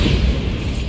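A Bombarda blasting spell goes off in Hogwarts Legacy as a deep, booming explosion, a short loud low rumble that fills the moment and fades slightly.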